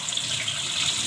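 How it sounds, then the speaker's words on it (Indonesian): Tap water runs steadily over food being washed in a kitchen sink, a close, continuous splashing hiss with no talking. "ini kita cuci ya. Biar hilang pahitnya guys."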